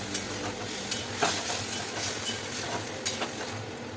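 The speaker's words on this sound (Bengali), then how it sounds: "এবার এটাকে আমি কষাবো" Spice paste for fish curry sautés in a pan, a soft continuous sizzle with a few scraping stirs and light clinks on top, fairly quiet and close, with no talking.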